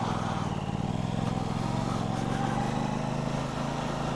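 An Aprilia RS660 motorcycle is ridden with a steady, droning engine note and wind rush, heard continuously and close.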